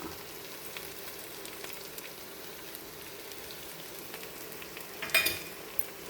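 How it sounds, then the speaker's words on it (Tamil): Mashed potato fry stirred with spice powder in a pan gives a faint, steady low sizzle, with a brief louder scrape of stirring near the end. "பொடியை போட்டுட்டு அப்படியே ஒரு ஒரு ரெண்டு நிமிஷம் அப்படி கலரி விடலாம்"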